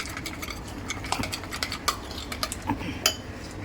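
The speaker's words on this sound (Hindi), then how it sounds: "यहाँ पे देखिए मैंने मेयोनीज ली हूँ और इसके अंदर हम ये सॉस मिक्स कर देंगे।" A spoon stirs sauce into mayonnaise in a bowl, giving soft, irregular scraping and light clinks against the dish, quiet and close with no talk.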